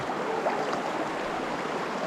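Warm river water from the mountains flows past in the countryside, a steady close rush with no voices.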